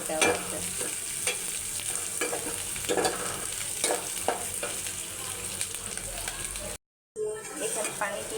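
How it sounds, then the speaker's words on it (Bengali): Onions and green chilies frying in a pan sizzle softly and steadily while being stirred, with scraping strokes and a voice talking over the cooking. "তো এটা সুন্দর করে আবার ভাজা করা লাগবে।"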